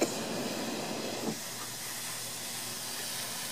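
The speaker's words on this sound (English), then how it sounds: "But the water is boiling." Water boiling in a paper cup gives off a steady, close hiss with a brief rise in bubbling and sputtering near the start before it settles into a constant steam-like rush.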